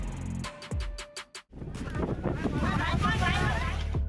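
Storm wind roars strong and continuous after a brief burst of clatter and a sudden cutoff, with wind buffeting the microphone during a destructive storm that damaged houses.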